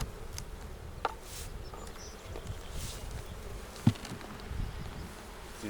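Honey bee workers buzz around an opened hive box outdoors at a conservation area, a soft steady insect drone with a few brief knocks and bumps from handling the hive.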